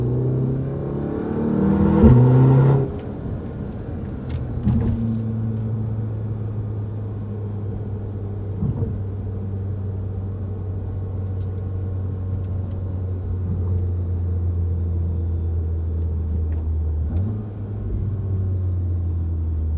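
A 2015 VW MK7 Golf R with an Invidia Q300 catback exhaust pulls at wide open throttle, a deep droning rumble heard from inside, rising in pitch and dipping briefly at gear changes.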